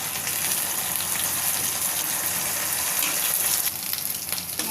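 Ginger-garlic and cumin paste fries with onions for beef curry in a pan. A loud, continuous sizzling hiss holds steady throughout, with no speech.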